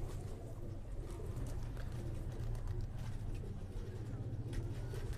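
Low, soft pigeon coos repeat steadily over a constant rumbling background hum.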